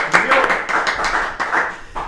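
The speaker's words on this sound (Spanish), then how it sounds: "Jorge Rubiani, a quien recibimos con un fortísimo aplauso." A crowd at a Paraguayan commemoration of the Battle of Curupayty applauds, a short burst of clapping that rises and tapers over about two seconds.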